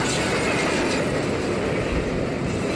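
Rumbling train attack in the video game Bravely Default, a dense, steady clattering roar of rail wheels and carriages filling the whole stretch at constant loudness, with no voices.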